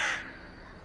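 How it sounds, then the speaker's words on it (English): A crow gives one loud, harsh caw at the start, close and alone, fading into quiet. "The crow calls loudly."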